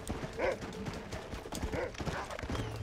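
Horse hooves clip-clop at a steady rhythmic gait in the video game Red Dead Redemption, moderately quiet, with faint game background and a brief murmur of voice.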